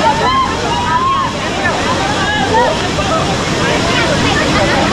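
Strong flow of Kalu waterfall in Malshej Ghat pouring and sloshing close by, a loud steady roar with swirling splashes, continuous for about five seconds.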